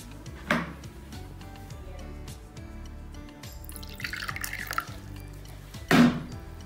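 ORS powder is stirred into water in a cup, with faint drips, a brief splash and a trickle of liquid, followed by a sharper clink near the end in a quiet room.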